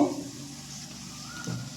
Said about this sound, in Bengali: দেখুন পেঁয়াজ তো ভাজা হচ্ছে